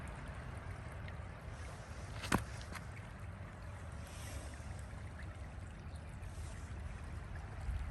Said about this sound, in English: It is really pouring in now.